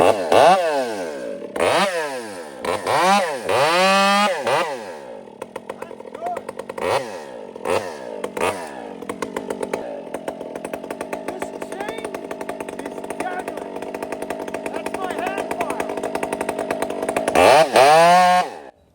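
A Stihl chainsaw cuts through smaller wood, loud and close, with repeated revving bursts that rise and fall before a long sustained cut. The engine revs up again at the end.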